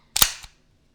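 The slide of a Radom Vis 35 9 mm pistol is worked: a sharp, loud metallic clack followed about a quarter second later by a second, softer click, then silence.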